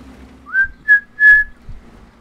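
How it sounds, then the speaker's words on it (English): A player whistles a theme tune during a World of Tanks session, three close, clear whistled notes, the first sliding upward, loud and alone apart from faint background game noise. "I gotta stop singing that theme tune. Or whistling it. Not singing it."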